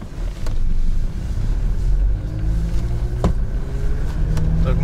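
A Toyota Land Cruiser Prado 120 engine drones low and steady as the SUV accelerates on the road, with interior rumble and a faint rising tone and no speech.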